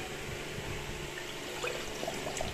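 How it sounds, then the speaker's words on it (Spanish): Water runs into a blender already holding chopped mango, papaya and ice cubes, a short steady pour with faint trickling that ends with a few light splashes. "Vamos a echarle un poco de agua."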